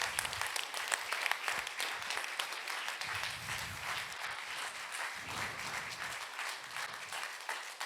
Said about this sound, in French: On peut applaudir encore plus fort Jésus ce matin.